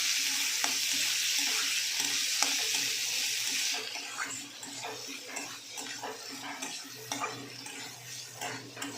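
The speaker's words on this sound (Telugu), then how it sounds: "అందులో కొద్దిగా వాటర్ వేయండి, శనగపప్పు ఉడకడానికి" Water pours from a tap into a pan of spiced chana dal, a steady, loud rushing splash that lasts the whole time, with faint clatter underneath and no talk.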